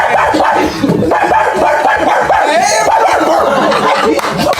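A man imitates a dog with a rapid string of loud, harsh barks and yelps, close and energetic, repeated throughout.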